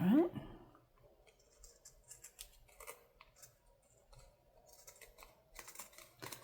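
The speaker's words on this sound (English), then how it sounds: "Just have to find that perfect spot on my scissors that will cut" Scissors snip through craft material, a series of close crisp cuts in short bursts with faint clicking between them and no talk over the cutting.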